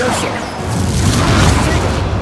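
A levitation spell is cast in the video game Hogwarts Legacy, a loud heavy boom with rumbling crash that sustains throughout, a voice shouting over it.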